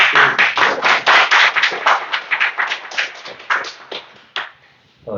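A church congregation claps together in a strong, steady burst of rhythmic hand claps that gradually thins out and fades to a few scattered claps near the end.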